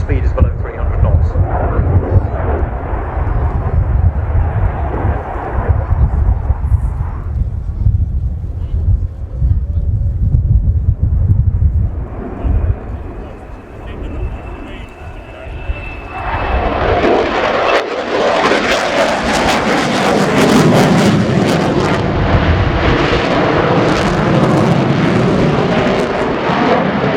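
A Swiss Air Force F/A-18C Hornet performs a flying display, a loud jet roar that rumbles, fades to a distant whine, then swells into a harsh, broadband thunder of afterburning engines, with talk over it.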